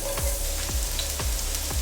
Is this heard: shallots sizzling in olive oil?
yes